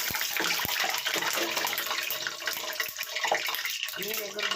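Masala bonda fritters sizzling in hot oil, a dense continuous crackle and hiss that runs steadily throughout at close range, with a few sharper pops.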